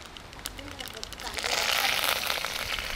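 Mustard seeds, urad dal and cumin sputter in a little gingelly oil while being tempered for onion sambar. A soft crackling sizzle swells partway through and keeps going under someone talking.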